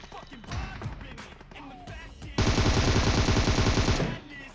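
Gunfire in the PUBG Mobile video game during a drop shot on a military base: scattered shots, then a dense rapid burst of automatic fire for about a second and a half before stopping.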